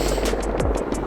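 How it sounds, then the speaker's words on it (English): Helicopter rotor chopping steadily, a loud continuous thudding drone with rapid rhythmic beats, close overhead. "helicopters are coming."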